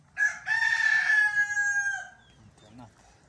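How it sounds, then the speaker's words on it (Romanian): A feather-footed chicken gives one loud, drawn-out crowing call close by, lasting under two seconds, with a short softer cluck afterward over low background rumble. "Sunt o găină încălțată."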